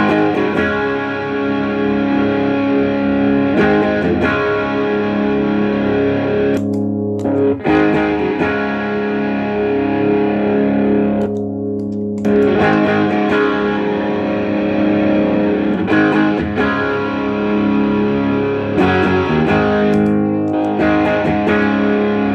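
An electric guitar played through a Joyo Tube Screamer-style overdrive pedal, loud and saturated, with sustained chords and riffs broken by a few short pauses, played alone without talking.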